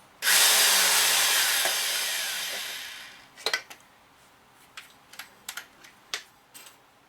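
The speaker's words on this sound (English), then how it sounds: "Reamer drops right in the hole," Reamer cutting through a hole during a motor rebuild of a 1946 Harley knucklehead stroker engine: a loud three-second broadband grinding burst, followed by several short sharp clicks and taps, with no talk.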